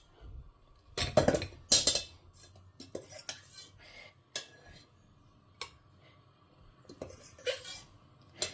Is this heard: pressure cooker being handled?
yes